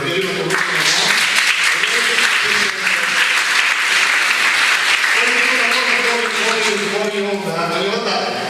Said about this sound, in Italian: Io faccio un applauso personale a Manella, perché io la conosco